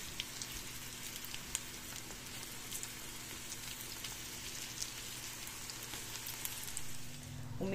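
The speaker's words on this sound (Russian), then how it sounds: "жарим грушу с двух сторон до мягкости" Pear pieces fry in a pan, turned to cook on both sides until soft, giving a steady, close crackling sizzle that runs unbroken throughout with no talking.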